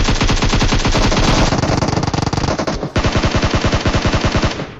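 Loud, sustained machine-gun fire in a battle royale game fight on a bridge: long, rapid rattling bursts, nearby and continuous, with a brief break partway through.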